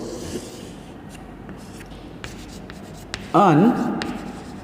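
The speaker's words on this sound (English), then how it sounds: "Now see here, I'll write that topic also." A topic is written on a classroom board during a school economics lesson, giving faint, scratchy strokes in short bursts, with a teacher's voice heard alongside.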